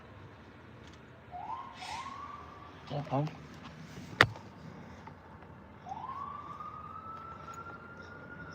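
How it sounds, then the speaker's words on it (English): An ambulance siren wails past on a street near a fire engine, its rising electronic tones sweeping up twice early and again later, moderately distant, with a sharp click and a brief spoken exclamation in between. "Oh, that's the ambulance going off on one."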